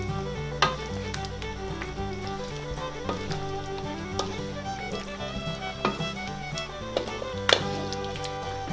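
Carrots and potatoes sizzle steadily in a hot frying pan, a continuous close crackle of frying punctuated by a few sharp knocks of a utensil stirring against the pan.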